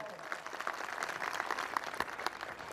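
A gathering at a community get-together event breaks into applause for donors, with many hands clapping in a dense, steady patter heard from a moderate distance.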